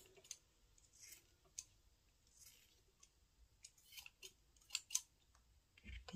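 Scissors snipping macrame cord to trim a finished garland, giving a few faint, scattered clicks and snips at close range with no talking.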